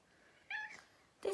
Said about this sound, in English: for some reason he is meowing